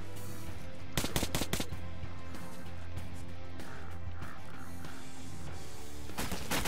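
Gunfire in Metro Last Light, with rapid machine-gun bursts at the start and again near the end over a steady background hum, loud and close.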